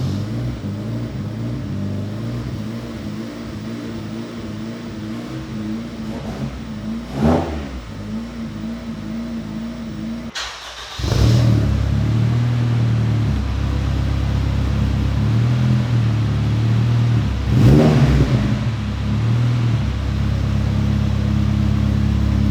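An Acura RSX four-cylinder VTEC engine, tuned to rev to 9,000 RPM, holds idle and then spikes in sharp revs, with two strong blips and a louder steady drone in the second half, close and with no talking.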